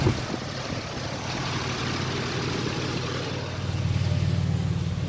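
A 2005 Ford Explorer engine idles steadily with a low, even hum and a constant rumble, growing slightly louder near the end.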